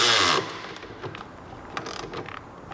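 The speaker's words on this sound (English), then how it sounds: "this is the bolt that comes with the kit. Like an M10 by 50. Tighten it up." An M10 by 50 bolt on a lift kit for a 1990-1998 Mitsubishi Minicab van is tightened with a wrench, giving a few light mechanical clicks and ratcheting ticks after a brief louder burst at the start.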